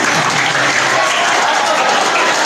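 Audience applause at the close of a Maulidur Rasul religious lecture, a dense, steady wash of clapping from a crowd that holds at full strength for the whole stretch.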